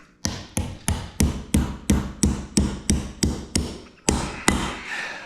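A hammer strikes a firmly secured anvil about a dozen times in an even, ringing rhythm. The blows are loud and close, with a short pause before the last couple.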